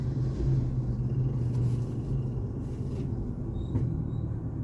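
Steady road traffic rumble on a street by a school exit, a continuous low drone of passing cars and heavier vehicles, fairly close and even in level throughout, with no talking.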